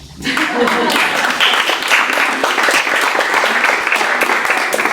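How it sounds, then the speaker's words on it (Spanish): A room of people at a gathering breaks into sustained, loud clapping that starts abruptly and holds steady, dense and close, with some voices mixed in. "yo quiero aplaudir"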